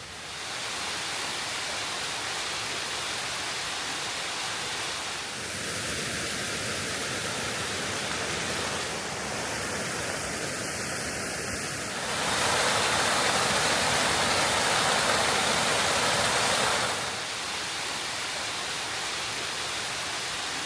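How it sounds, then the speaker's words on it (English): Bells Canyon Lower Falls in the Wasatch mountains, a waterfall about 2.5 miles up a hiking trail, roars with a steady broadband rush heard close and loud for the whole stretch, with no voices over it. "The first falls right behind me."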